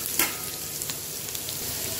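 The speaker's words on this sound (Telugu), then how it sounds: "ఇది కొద్దిగా వేగాలండి ఆనియన్ కలర్ చేంజ్ అయితే సరిపోతుంది" Onions frying in a pan as the base for a prawn curry give off a steady, close sizzle, with a brief louder crackle near the start before settling into an even hiss.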